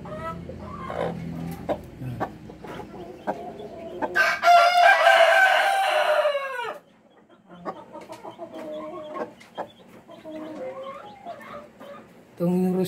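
A nine-month-old Rhode Island Red rooster crows loudly once near the middle, with hens clucking and softer fowl calls scattered around it on a farm, plus some quiet background noise.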